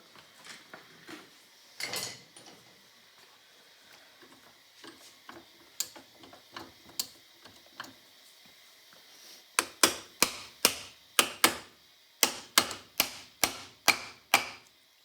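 A part is tapped into the spring barrel of a Pathé gramophone mechanism with light metallic taps, first scattered and quiet, then a quick run of sharper, evenly spaced knocks close up. No talk.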